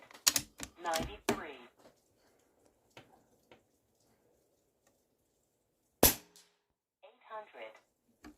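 Air Venturi Avenger .22 air rifle shots striking thick steel dueling targets at an outdoor range, several sharp isolated cracks with metallic rings, separated by quiet gaps, with someone talking between shots.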